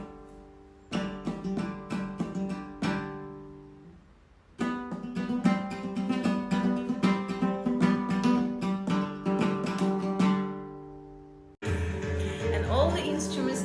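A Kazakh traditional dombyra is played in bright plucked strums, one short phrase, a pause, then a longer rapid strummed passage that fades before a sudden noisy cut near the end; no speech.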